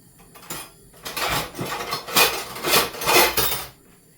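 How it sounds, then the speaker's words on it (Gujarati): Metal utensil scraping and clinking against a pan while turning an egg over on the stove, a series of short bright scrapes and taps over about three seconds, close and fairly loud. "ચાલો આપણે ઈંડું ફેરવી નાખીએ."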